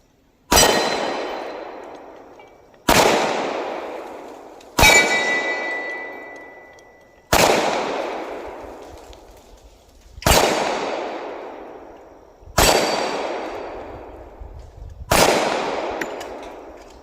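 A Tisas 1911A1 pistol fires seven evenly spaced shots at steel targets outdoors. Each loud report rings out with a long metallic clang that fades over about two seconds before the next shot.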